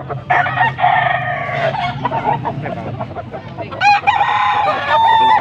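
Roosters and stags crow repeatedly amid clucking fowl at a poultry sale in Pampanga, several birds close by and loud, with a busy background of other poultry sounds.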